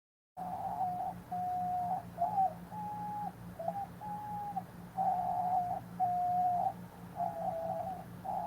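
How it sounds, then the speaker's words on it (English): Repeated cooing bird calls, likely pigeons or doves, sound in steady phrases over a low background hum, with no talking. "Here go my birds."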